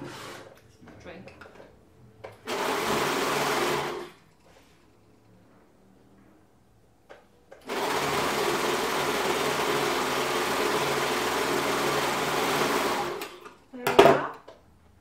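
An overlocker sews a sweatshirt seam in two bursts, one short and one long, each a fast, loud, steady mechanical whir that stops abruptly. Quiet handling noises fill the gaps, and a brief clatter comes at the end.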